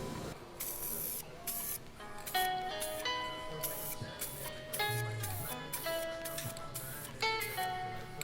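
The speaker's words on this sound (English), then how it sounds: "And actually you want to go ahead and spray the edges first." Aerosol spray paint hissing onto the edges of an Xbox One controller in short bursts, with quiet tapping and faint musical tones in the background.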